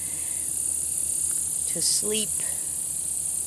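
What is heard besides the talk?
crickets chirping at night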